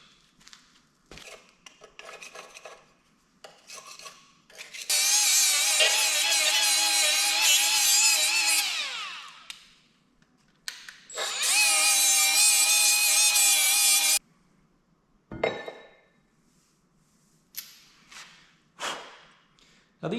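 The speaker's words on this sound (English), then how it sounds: "let's get a scraper in there first" Scraping old gasket material off a CAT C13 engine block, two long stretches of harsh, gritty metal-on-metal rasping up close, separated by quieter clicks and shuffling.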